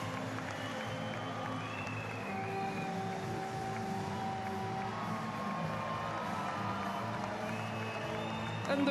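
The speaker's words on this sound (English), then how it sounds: "Merci d'applaudir très fort." A crowd at a TIMBERSPORTS individual world championship medal ceremony applauds and cheers, a faint, distant, steady wash of clapping and scattered shouts with some talk mixed in throughout.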